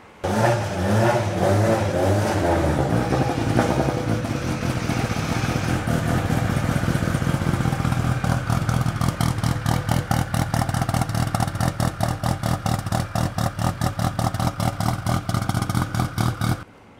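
A 1000-horsepower Toyota MR2 with a large Precision turbo idles roughly, then revs hard in close, loud bursts that settle into a fast, choppy rhythmic engine pulse.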